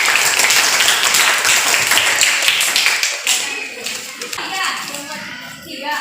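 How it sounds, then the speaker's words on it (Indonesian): A classroom group of children claps for a presenting group, loud and brisk at first, then thinning out, with excited young voices chattering over and after the clapping. "tepuk tangan untuk kelompok 1."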